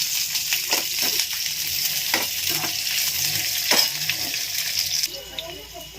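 Onion, green chillies, ginger and garlic sizzle steadily in a hot pan for paneer gravy, with a spatula scraping and stirring through it at a few points; a voice talks briefly near the end.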